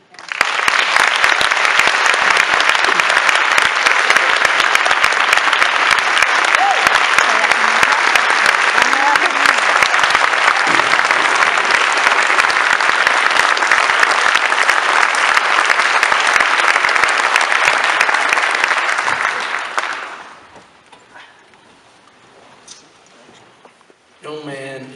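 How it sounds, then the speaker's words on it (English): A large audience at a Charleston Animal Society no-kill anniversary celebration applauds Mayor Keith Summey with loud, dense, sustained clapping for about twenty seconds before it quickly dies away into quiet. "Let's give a round of applause for Mayor Keith Summey."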